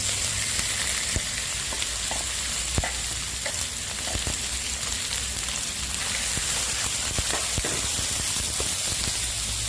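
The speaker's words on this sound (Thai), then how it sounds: "ผัดพอน้ำมันสามชั้นออกแล้วค่อยใส่ฟักลงไปผัดนะคะ" Shallots and pork belly stir-fry in hot oil for a Vietnamese winter melon dish, a loud, dense, unbroken sizzle peppered with sharp pops and spatula ticks, no talking.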